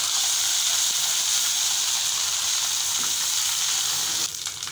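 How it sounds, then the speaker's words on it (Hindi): Ginger garlic paste frying with golden brown onions for an egg and potato korma, a dense, steady hiss of sizzling oil close up, easing slightly at the end. "इसको अच्छी तरीके से भूनेंगे।"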